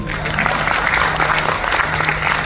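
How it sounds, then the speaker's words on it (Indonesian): Audience applause at an indoor talk, a dense, loud, continuous wash of clapping filling the whole moment without a break. "Tepuk tangan dong lagi"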